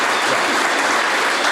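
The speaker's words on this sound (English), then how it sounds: "let's give a great round of applause for our amazing" An audience at a medical talk breaks into applause, a loud, dense and steady clapping that fills the whole moment without any voices.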